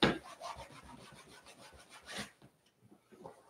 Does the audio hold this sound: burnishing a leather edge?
yes